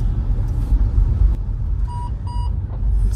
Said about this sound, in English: lane departure warning